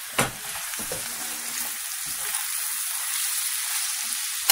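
Chopped potatoes and meat sizzle steadily in a hot pan for Filipino lumpia filling, a continuous loud frying hiss with a couple of stirring knocks near the start and no talking.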